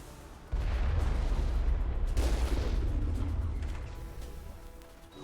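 A large gun fires in the Mass Effect video game, a heavy booming blast that rolls into a sustained rumbling roar with crackling debris. A second burst follows before the noise slowly fades.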